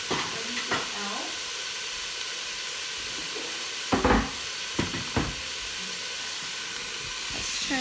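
Spaghetti meat sauce with an Asian twist simmers in a pan, giving a steady low hiss and sizzle throughout, with a few brief louder clatters of utensils near the middle.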